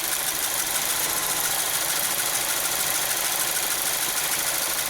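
A 2014 Jetta engine idles with a cylinder 4 misfire, giving a steady, uneven mechanical rumble with a rough, shaking pulse throughout and no voices.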